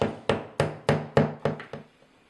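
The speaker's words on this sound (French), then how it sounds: "je trace, je perce et je fixe" Hammer-like taps while an Extel WEVP 256 video intercom bracket is fixed to a wall: seven sharp, close knocks at a steady beat that speeds up slightly and fades toward the end, with no talking.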